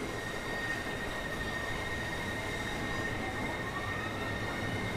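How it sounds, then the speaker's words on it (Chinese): A train passes in the Train Sim World 2 game on a UK southeast high-speed line, a steady rumbling roll of railcars with faint squealing wheel tones running throughout, moderately loud and without talk. "好家伙，旁边来车了。"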